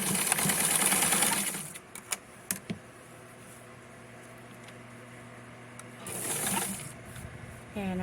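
A sewing machine stitches elastic casing on small doll pants in two loud, close whirring bursts with quiet pauses and a few clicks between them, and a voice talks faintly.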